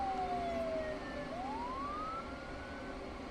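An ambulance siren wails alone, its pitch dipping then sweeping back up in a smooth rising and falling tone, moderately loud over a faint background rumble.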